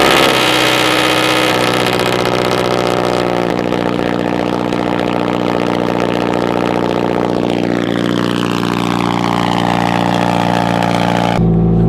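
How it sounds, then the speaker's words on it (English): A loud car engine idles steadily up close after a cold start, its rough mechanical drone shifting slightly in pitch, with a brief rev partway through. "I'm gonna go ahead and get a cold start"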